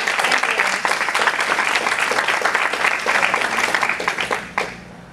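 An audience at a convention gives a round of applause: dense, steady clapping from many hands that holds for several seconds and then quickly dies away.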